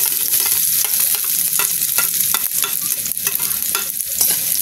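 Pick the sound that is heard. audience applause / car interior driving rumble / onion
onion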